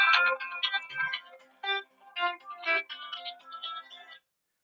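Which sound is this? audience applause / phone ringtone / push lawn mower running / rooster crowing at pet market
phone ringtone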